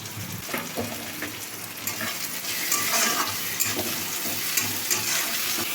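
Tomato and chopped garlic fry in a pan with a steady crackling sizzle, broken by occasional scrapes and clinks of a stirring utensil; no voices.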